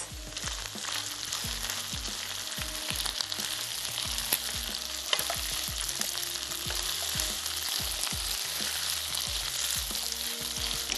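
Beef stir fry sizzling in a pan while being mixed, a dense continuous crackling fry with rapid, regular tossing and clanking strokes, close and with no talk.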